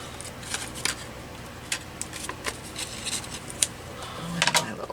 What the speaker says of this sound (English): My little scissors, I think.